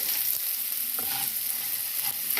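Vermicelli fries in a pan with a loud, constant sizzle while it is stirred, and occasional scraping stirs cut through the hiss.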